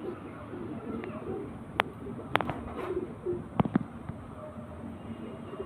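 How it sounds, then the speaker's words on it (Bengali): Soft, low pigeon coos from a black champion racing pigeon at a pigeon tournament, faint and intermittent among background murmur, with a few sharp clicks and taps nearby. "একটা কালো পায়রা দেখুন, ঠিক আছে, এটা একটা আজকেকার চ্যাম্পিয়ন পায়রা"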